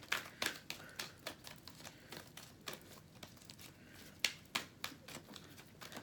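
Soft, irregular riffling and flicking of tarot cards, a quick series of crisp shuffles repeating at close range with no talking.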